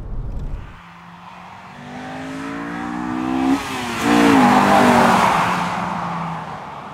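A silver sports car with a standard 4-2-1 exhaust manifold revs up loudly and close, its engine note climbing smoothly, dipping briefly, then pulling hard again into a sustained high-pitched roar.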